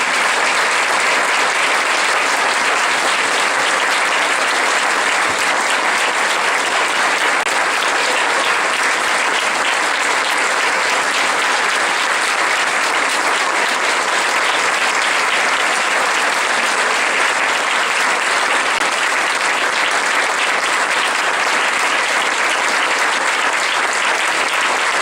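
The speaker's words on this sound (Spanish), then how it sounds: "para que les demos un aplauso" An audience at an inaugural conference gives a long, sustained burst of applause, dense steady clapping from many hands that holds at an even loudness throughout, with no talking over it.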